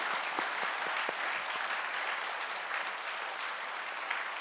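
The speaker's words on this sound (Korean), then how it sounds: "우리 힘찬 박수로 화답하겠습니다." A church congregation at a retirement ceremony for pastors and elders claps together in a steady, moderately loud round, a few sharper individual claps standing out early on.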